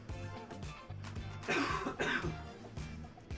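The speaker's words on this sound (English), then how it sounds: "Pardon the coughs, you guys." Repeated throaty coughs and throat clearing from a commentator during a professional pool match at a tournament, several bursts close to the microphone, mostly alone with no talk between them.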